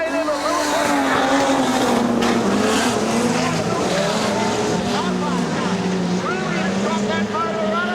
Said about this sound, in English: That motor running on